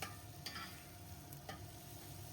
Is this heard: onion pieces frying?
yes